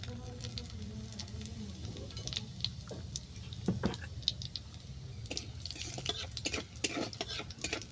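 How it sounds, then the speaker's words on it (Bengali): Dry red chillies and cumin seeds tempering in hot oil, a soft steady sizzle running throughout with faint crackles and a few spoon-stirring clinks near the pan. "এই তেলের মধ্যে শুকনো লঙ্কা ফোড়ন দিলাম দিলাম সাদা জিরে"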